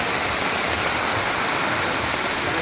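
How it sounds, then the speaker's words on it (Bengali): Heavy rain pours down steadily on a cold day, an unbroken dense hiss of falling water, close and even in loudness, with no voices. "দেখতে পাচ্ছেন প্রচুর পরিমাণে বৃষ্টি হচ্ছে।"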